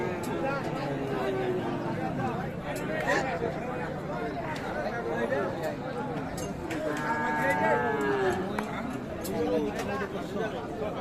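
Busy cattle market where crossbred bull cattle are being bought and sold, a dense steady babble of many voices and crowd noise with scattered knocks and thuds throughout, continuous and moderately loud.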